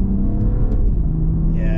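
2024 BMW Alpina B3 Touring accelerating in sport mode, a steady, loud, low engine drone and rumble heard from inside the car, with a faint rising whine near the end; no talking.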